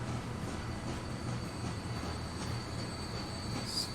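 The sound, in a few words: train running in video game Transport Fever 2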